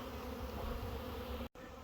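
A dense, steady hum of many bees buzzing close by while bee packages are transferred into hives, continuous and even, with a momentary dropout near the end.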